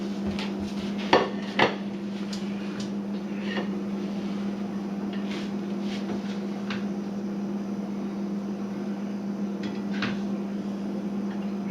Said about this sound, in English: let me serve some up on a plate and we'll see exactly what this looks like